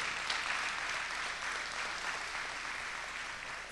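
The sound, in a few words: applause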